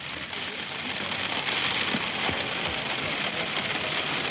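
Heavy rain pours down outdoors in London, a dense, steady hiss of drops that stays loud and even throughout.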